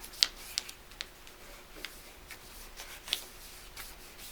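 Paper being folded into an origami pumpkin makes soft crinkles and a few sharp creasing ticks, sparse and close over a quiet background.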